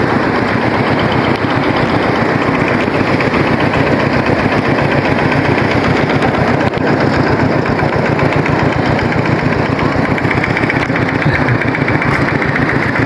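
A walk-behind tractor engine runs steadily at close range for the whole stretch, a loud, rapid chugging with no voices over it.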